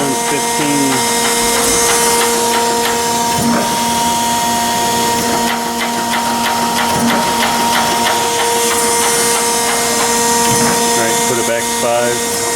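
Chevalier 1628AD 16 x 28 inch surface grinder plunge grinding at a 15 feed setting, a steady whining hum with tonal drone and rhythmic mechanical clicks and ratcheting feed pulses, close and loud throughout.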